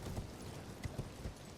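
A video-game horse gallops in a quick run of muffled hoofbeats, steady and mid-distance, heard on its own with no talk.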